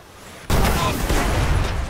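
Heavy machine gun firing in the shooter game Destiny: after a brief quiet moment, a loud burst of rapid gunfire erupts and keeps rattling densely, close and dominant.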